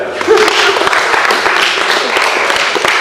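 Audience clapping at a seminar, a steady wash of hand claps sustained across the whole stretch at moderate loudness, with a brief voice near the start.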